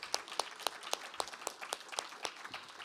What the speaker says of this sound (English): let's get a round of applause for all our presenters tonight